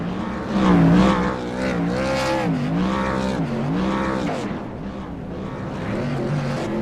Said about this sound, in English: Matt Sisler parks it at start-finish after his celebratory burnouts.